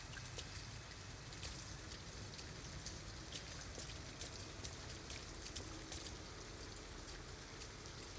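Steady rain falls in the video game Detroit: Become Human, a dense even patter of drops on surfaces at moderate distance, continuous and unbroken throughout with no voices.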